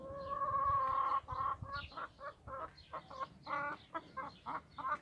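Chickens cluck in a steady, close stream of short repeated calls, with one bird's drawn-out call at the start, no voices.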